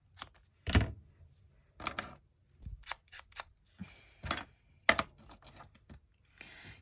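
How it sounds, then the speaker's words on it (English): Scissors snipping washi tape and paper labels at a craft table, a series of short, crisp close cuts and rustles in irregular bursts with quiet gaps between them. "So I'm gonna cut this off here."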